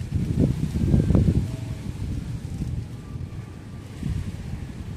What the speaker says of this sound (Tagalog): Mahangin. Masyadong mahangin.